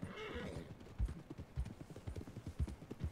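Horse hooves clip-clop in a steady riding rhythm in Red Dead Redemption 2, close and fairly loud, with a brief whinny-like tone early on and no talking.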